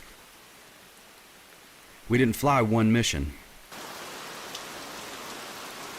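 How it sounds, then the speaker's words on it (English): Heavy tropical rain pouring down in New Guinea, a steady hiss of downpour on surfaces that continues throughout, briefly interrupted by someone speaking before the rain noise resumes. "When rain soaks New Guinea, nothing and no one escapes the deluge."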